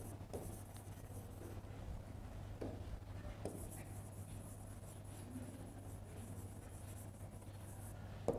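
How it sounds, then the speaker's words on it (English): Chalk or marker scratching on a lecture-hall board in short strokes, faint beneath a steady low hum of room noise. "let me write these down"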